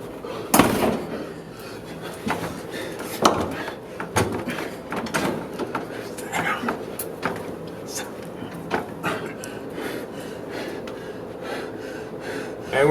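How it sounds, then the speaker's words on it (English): Light, irregular taps against a door on a film set behind the scenes, scattered soft knocks mixed with breathing and rustling, fairly close and quiet. "it's just Luke lightly tapping against the door and not actually yelling at all."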